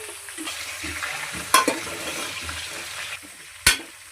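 Bottle gourd pieces with salt stirred in a pot, a soft wet hiss and shuffle under two sharp metallic knocks of the spoon against the rim.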